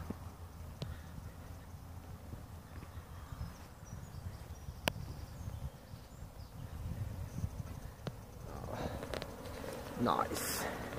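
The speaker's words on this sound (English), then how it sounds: "Bees flying." A steady low hum of honey bees flying around continuously outdoors on a sunny March day in Nottingham, with faint clicks and a soft murmur in the background.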